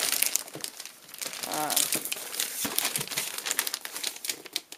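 An envelope holding an action figure box being torn open, with dense close paper crinkling and crackling in bursts, getting louder midway and continuing steadily.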